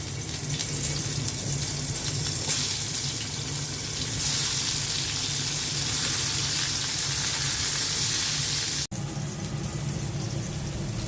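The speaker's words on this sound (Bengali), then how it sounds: "কাঁকরোলগুলো দিয়ে দিচ্ছি।" Teasel gourds dropped into hot oil in a frying pan, a loud unbroken hissing sizzle that swells partway through, close up, with one sharp knock near the end and no voices.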